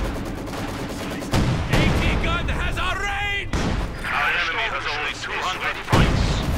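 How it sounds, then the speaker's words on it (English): Field gun artillery bombardment in the Company of Heroes 2 strategy game: loud, dense explosions and gunfire crackle throughout, with heavy booms at the start and end and someone commentating over it. "getting bombarded as well by the field gun"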